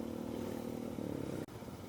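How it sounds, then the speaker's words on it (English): A Royal Enfield GT 650 parallel-twin motorcycle on a demo test ride at a vintage motorcycle event, its engine droning steadily at close range with a brief dip near the end. "Test riding Royal Enfield GT 650, GT 650. Parallel twins."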